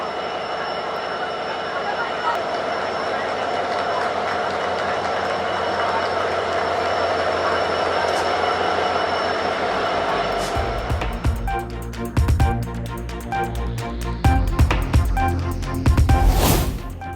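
A steady rumbling hum of a train running on a new rail service at Anuradhapura, Sri Lanka, then heavier clattering and rattling bursts toward the end, loud and close.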